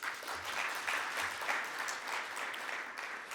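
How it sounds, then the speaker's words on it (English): Steady, moderately distant applause from an audience at an economic conference on Namibia's post-COVID-19 recovery, a continuous even patter of many hands lasting a few seconds. "Another round of applause, please."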